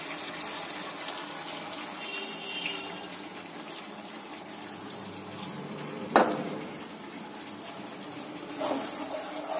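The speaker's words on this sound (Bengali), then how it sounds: "এবার আমি তেঁতুল গোলা জল দিচ্ছি।" Tamarind water pours into a pan of tilapia curry, a steady watery splash and trickle over a low background hiss, with a sharper splashing spike partway through and another near the end.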